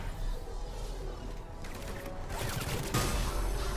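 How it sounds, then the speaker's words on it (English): Gunfire during a firefight in Mass Effect Legendary Edition: a dense, steady crackle of rapid shots over a loud game soundscape, thickening toward the end. "Who's shooting me?"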